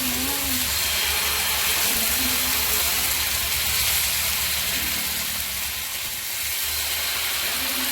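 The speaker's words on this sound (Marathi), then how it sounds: "सो पॅनला तेल लागलेलं आहे आणि डोश्याचं बॅटर पण त्याच्यामध्ये गेलेलं आहे." Instant upvas dosa batter sizzles in an oiled pan, a steady, fairly loud hiss that holds evenly throughout with no talking.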